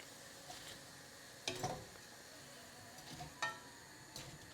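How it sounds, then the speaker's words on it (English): Quiet, steady sizzle of vegetable Manchurian balls frying in oil, with a few louder crackling bursts and faint clinks now and then. "I have got this frying away quite nicely"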